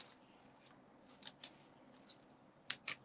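Scissors trim paper for a handmade card with decorative trees, a few quick, crisp snips in close succession in a quiet room.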